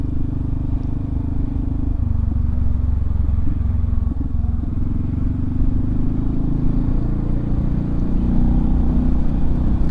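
A 2018 Yamaha Xmax 250 scooter on the road gives a steady, close engine drone mixed with wind and road rumble that runs unbroken through the whole ride, with no talking.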